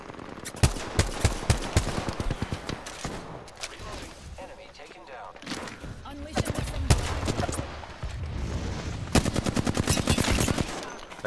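Gunfire in Apex Legends, repeated rapid weapon bursts and scattered single shots, loud and close, mixed with game sounds and a speaking voice.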